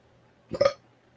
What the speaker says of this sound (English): Thank you for the burp.